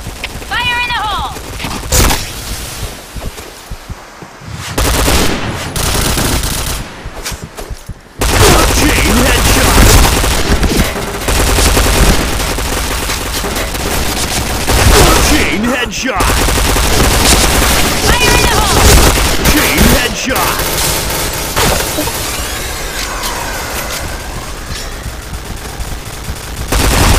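Rapid P90 submachine gun fire rattles in the shooter game Point Blank, with loud sustained bursts, booms and short pauses, while game voice announcements sound over the gunfire.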